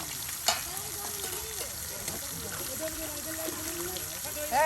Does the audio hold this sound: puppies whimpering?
no